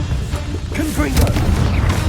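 A Confringo blasting spell explodes in the video game Hogwarts Legacy, a loud, close, rumbling boom with crackling debris over heavy low-end noise, cast in the middle of a fight with spoken voices mixed in.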